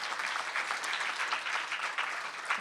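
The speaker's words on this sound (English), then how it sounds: "so she gets a clap for that." Steady audience applause for a speaker on a global health panel, an even wash of many hands clapping that holds at moderate volume throughout.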